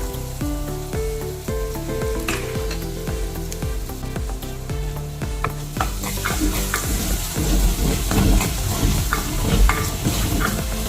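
Egg sizzles loudly in a pan for a Kerala-style prawn and mango curry, with a steady close fry and a spoon scraping and stirring through it, growing louder partway through.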